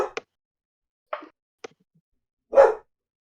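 A dog barks a few times in short, separated yelps with quiet gaps between, ending in one longer, fuller bark, moderately close in an otherwise silent room.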